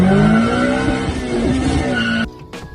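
A Mazda 323 VVL car engine holds a steady, loud drone while being driven, then cuts away abruptly near the end as the gearbox is shifted, with a brief rise in sound afterward.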